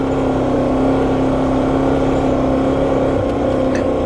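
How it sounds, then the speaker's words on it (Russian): A motorcycle riding on a mountain track in the Tian Shan, a loud steady engine drone with a constant tone, close and unbroken throughout. "когда путешествую по таким дорожкам на исправном мотоцикле"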